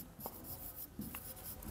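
Marker or chalk strokes scratch faintly across a classroom board in a few short, soft bursts, with quiet room tone between them and no talking.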